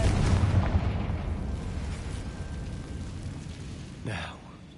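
The Confringo explosive spell blasting in the video game Hogwarts Legacy, a loud booming burst at the start that rolls off into a fading rumble, with another smaller impact near the end.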